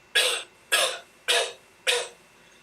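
Four evenly spaced, sharp coughs from a person, loud and close, each a short burst followed by brief silence.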